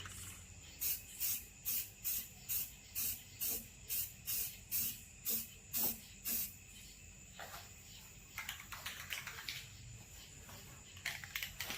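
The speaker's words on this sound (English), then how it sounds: "I just really want to get some primer on this area." Spray primer hissing onto a car body in the engine bay of a right-hand-drive Honda del Sol: about a dozen short, regular bursts in a row, then scattered quieter spurts, close and without talk.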